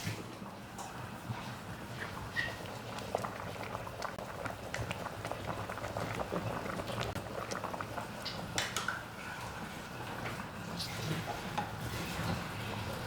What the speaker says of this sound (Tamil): கொதிக்கிற சத்தம்.